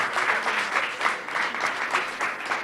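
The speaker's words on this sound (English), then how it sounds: "Another big round of applause for the dreamer, the visionary, Alicia Qualls." Crowd applause at a ribbon cutting honoring Alicia Qualls of Urban Sprouts, a steady dense wash of many hands clapping that swells and dips in loudness throughout, with no voices over it.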